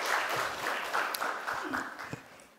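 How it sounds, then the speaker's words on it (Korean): A church congregation gives a short round of applause during a Sunday worship service, soft and roomy, tapering off after a couple of seconds while a voice is faintly present. "크게 영광의 박수를 돌리겠습니다."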